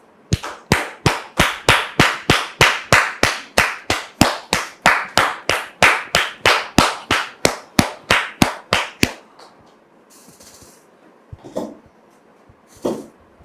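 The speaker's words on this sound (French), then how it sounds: "Merci de recevoir Dame Sephora, l'épouse de M. Kokora, sous vos applaudissements." An audience welcoming a guest claps in loud, steady unison, with close beats for about nine seconds. The clapping then stops and a quiet, murmuring room is left.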